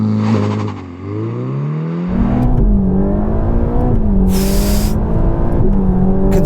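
Ferrari Roma launching hard from a standstill on a slippery track, its engine pitch climbing steadily through rising gear changes, close and loud, with a brief high whine partway through the run.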